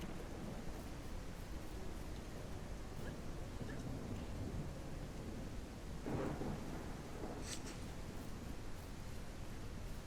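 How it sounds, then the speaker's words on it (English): Steady rainfall in a thunderstorm on a ranch, with a soft distant rumble of thunder rolling under the constant hiss of rain and a few faint brighter chirps near the end. "I do like the storms."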